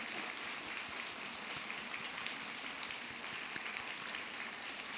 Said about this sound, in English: let's all just give them a hand for their courage, their commitment, their leadership.